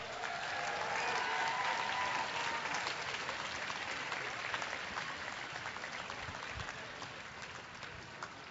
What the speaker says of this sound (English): One more round of applause for Catherine Tome